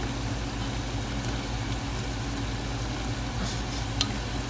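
Vietnamese pork sausage (giò) fries in a pan with a steady, close sizzle and faint stirring scrapes, a continuous crackling hiss with a small tap near the end and no talking.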